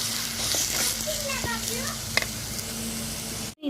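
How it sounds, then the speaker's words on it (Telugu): Chicken goes into a pan over a wood-fired stove for chicken curry and is stirred, bringing a steady loud sizzle and frying hiss with scraping stirs and faint voices nearby. "ఇప్పుడు చికెన్ వేసుకొని బాగా కలిపెట్టాలండి"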